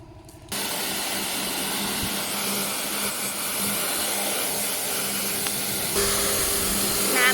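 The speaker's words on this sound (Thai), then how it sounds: "แผงแอร์ของรถ Toyota r e v o นะคะ เดี๋ยวเราจะฉีดล้างทำความสะอาดให้นะคะ" A Toyota Revo's air conditioner condenser panel is spray-washed, giving a steady, close, loud hiss of pressurized water that starts abruptly and runs continuously, brightening slightly near the end.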